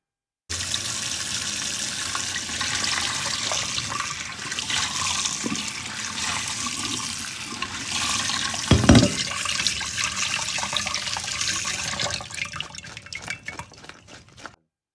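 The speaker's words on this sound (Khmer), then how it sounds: "ឡូវខ្ញុំត្រាំវាហើយខ្ញុំលាងឲ្យបានពី3ទឹកតោះយើងយកទៅលាងមក" Soaked dried shrimp rinsed under water, giving a steady, close rush of running and splashing water at a sink that lasts the whole stretch with one brief louder knock near the middle.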